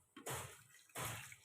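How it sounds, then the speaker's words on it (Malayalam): Water splashes into a blender jar for mint lime in two short pours, each a bright close gush lasting about half a second, separated by a brief quiet gap. "അപ്പോൾ ഇത്തിരി വെള്ളം ആദ്യം ഒഴിക്കുക."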